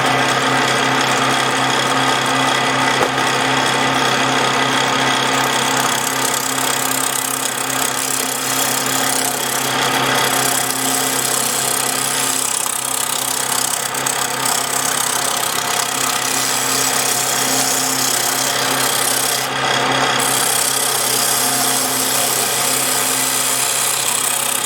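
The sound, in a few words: wood lathe turning dry wood for a vase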